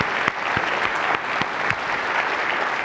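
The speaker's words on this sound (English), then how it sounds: "Let's give all these people a round of applause." An audience at a DevOps tech talk breaks into steady applause, dense clapping that holds at an even level throughout with a few sharper claps standing out.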